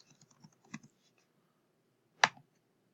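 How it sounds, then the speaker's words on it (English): A few soft taps on a computer keyboard while a password is entered, then a pause and one sharper, louder key press, close and otherwise quiet. "then type your password again"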